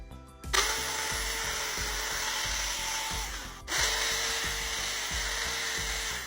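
A drill-driven wire brush whirring and grinding against a metal brake caliper, cleaning it before painting, loud and close, in two continuous bursts with a brief pause between.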